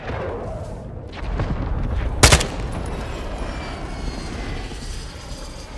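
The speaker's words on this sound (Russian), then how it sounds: "Нужен авиаудар по этой точке." An airstrike aircraft in Call of Duty Warzone 2.0 roars overhead with a rising engine swell, punctuated by a sharp loud blast in the middle and followed by a lingering rumble.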